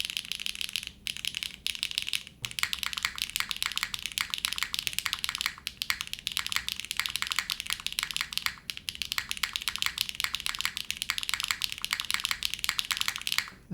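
Continuous rapid typing on a top-mount mechanical keyboard with a polycarbonate plate, a dense clatter of poppy, bouncy keystrokes with a few brief pauses, close and fairly loud.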